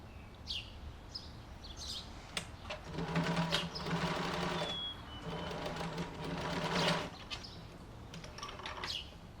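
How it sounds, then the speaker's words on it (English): A sewing machine stitching a facing onto the outer fabric of a dress hums in a steady close whir for several seconds, starting and pausing, with faint bird chirps in the background. "here you're going to sew the facing to the outer fabric, respecting 2 centimeters of seam allowance"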